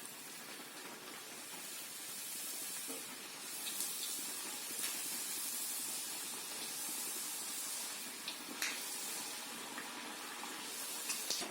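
Beetroot puris deep-frying in hot oil give a steady, fairly loud broadband hiss and sizzle throughout, with occasional sharper crackles and pops and no talking.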